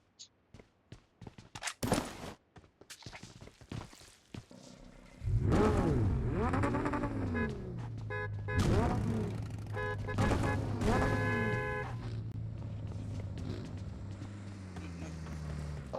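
Vehicles in the PUBG Mobile video game drive up, with a steady engine drone rising and shifting pitch for most of the stretch, after a few sharp impacts or shots at the start.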